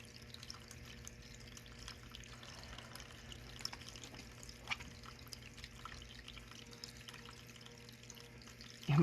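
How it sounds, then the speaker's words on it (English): Small desktop water fountain trickling steadily, a soft continuous watery patter with faint drips, quiet and close, with no talking. "It's a water fountain on my desk."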